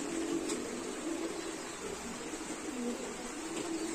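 Native pigeons coo in soft, repeated low phrases at a pigeon market, steady background hiss throughout with the calls recurring every second or so.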